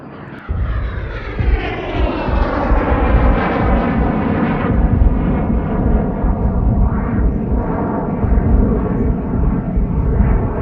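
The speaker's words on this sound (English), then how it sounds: "There's a copter on the field." Loud, steady roar of a helicopter's engine and rotor wash as it sets down on an open field, the harmonic drone holding close and continuous throughout after an abrupt start.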